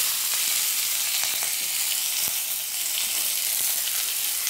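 Onions sizzle and fry in hot oil, a loud, steady crackling hiss with occasional sharp pops, no voices.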